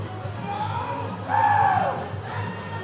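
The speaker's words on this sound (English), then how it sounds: "Northern Ireland getting fired up in the crowd." Northern Ireland supporters in the crowd at a Home Nations powerlifting meet roar and cheer, a sustained murmur swelling into a louder collective yell midway, then easing back to a steady hubbub.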